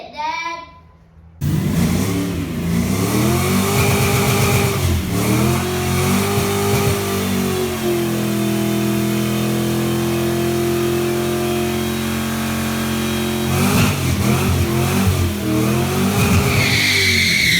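A 1981 Chevrolet Malibu G-body with an LS-swapped V8 fires and revs, climbing through several throttle blips, settling into a loud steady hold, then revving again near the end, close and alone.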